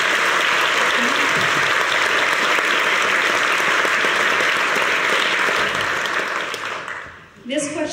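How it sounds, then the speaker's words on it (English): An audience at a conservative candidate forum applauds sheriff candidates, loud continuous clapping from a crowd that holds steady for several seconds and then fades, with a voice starting up right at the end. "Can we give these gentlemen a round of applause?"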